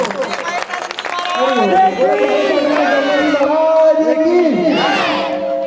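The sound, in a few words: audience applause welcoming a speaker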